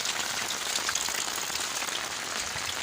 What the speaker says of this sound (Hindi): बारिश लगी